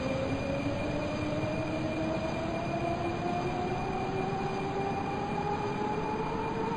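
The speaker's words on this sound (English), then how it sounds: "So here, train departs again." A metro train pulls away in a subway simulator game, its motor whine rising steadily in pitch over a continuous loud rumble, with no speech.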